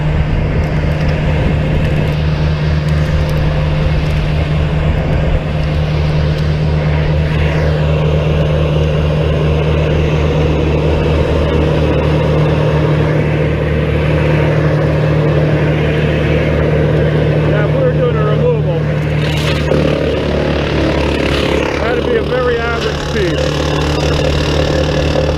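A Morbark 2100d Thunder wood chipper runs loud and steady as large, oddly shaped branches are fed into it, a constant engine drone with a few brief grinding surges as the wood is chewed through.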